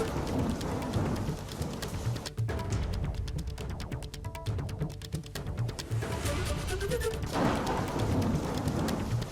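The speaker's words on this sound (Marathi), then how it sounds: "मुंबई शहर परिसर, मुंबई उपनगरात रात्रीपासून जोरदार पाऊस पडतोय।" Heavy overnight monsoon rain over Mumbai, a dense, continuous downpour roaring close and loud, with low rumbles running underneath.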